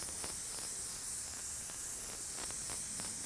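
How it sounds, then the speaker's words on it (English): Compressed air sprays steadily onto freshly applied Quicksilver metallic paint to dry it, a continuous close hiss with no pauses and no voices. "Keep on spraying the air on it."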